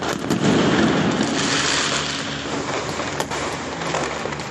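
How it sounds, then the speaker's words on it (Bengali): Loud crackling bursts of firecrackers on Kali Puja night in Kolkata, a dense rattling volley early on that thins into scattered pops and bangs against a noisy outdoor background. "সোমবার কালী পুজোর রাতে কলকাতা সহ জেলায় জেলায় শব্দবাজির দাপট"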